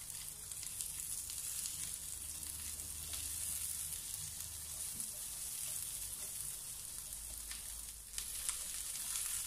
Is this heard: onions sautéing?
yes